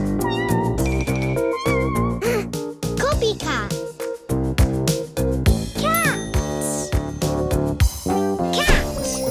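Several cat meows, rising and falling in pitch, mixed with bright music and a voice.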